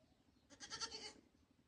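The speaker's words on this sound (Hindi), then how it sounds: "देखो बकरी बुला रही तुमको।" A goat bleats once in a short, wavering call at moderate distance, with no talk over it.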